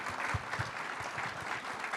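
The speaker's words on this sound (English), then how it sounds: "Let's give John a round of applause." Audience applause for the author John at a book event, a steady patter of many hands clapping at moderate loudness throughout the short stretch.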